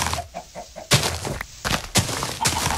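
Chickens in the Minecraft video game, a quick series of short clucks followed by several sharp bursty hits, fairly loud and close with no talk.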